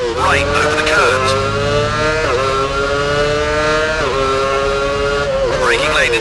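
Formula 1 car engine from F1 Championship Edition, a loud high-pitched whine climbing through gears with sharp pitch drops at shifts and hard braking toward a chicane, steady and close throughout with commentary-like talk underneath.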